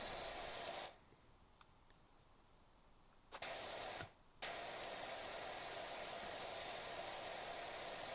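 A pressure washer spraying stone cleaner in PowerWash Simulator: a loud, steady broadband hiss of water jet that cuts out twice briefly, then resumes and runs continuously to the end.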